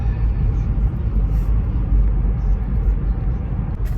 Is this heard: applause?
no